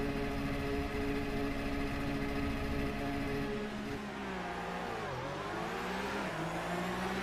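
A Porsche race car engine in a sim-racing esports game holds steady at high revs before a start on the Nordschleife, a loud continuous buzzing drone with layered harmonics that dips briefly in pitch near the end.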